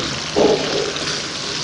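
One cup of water pours into a pot of curry masala for achari beef gosht, a brief splashing gush over a steady cooking hiss, close and fairly loud.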